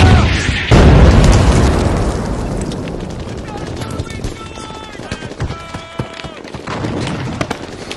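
Loud explosion in a World War II battle scene between German forces and US 101st Airborne troops, a sudden heavy boom that rolls into debris and fading rumble, followed by scattered crackling gunfire.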